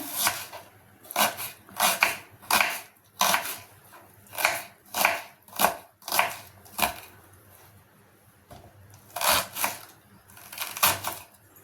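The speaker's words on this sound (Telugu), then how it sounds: "తోటకూర కోసాక చూపిస్తా. కోసుకుందాం." Knife chopping amaranth leaves on a board in quick bursts of sharp, close taps, pausing briefly between runs.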